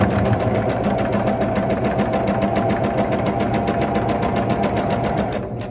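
A sewing machine runs continuously at close range, stitching a quarter-inch quilt seam with a fast, even needle chatter that slows and stops at the very end.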